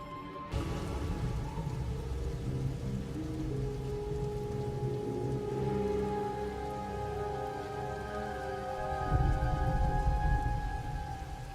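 Steady heavy rain with rolling thunder in Star Wars: The Old Republic, a constant dense downpour with low rumbles building and a louder thunder swell near the end, no voices.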